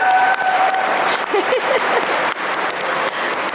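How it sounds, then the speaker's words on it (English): A live podcast audience at a gaming convention applauds loudly, with continuous clapping close by and brief voices mixed in. "Round of applause for Philip Wall"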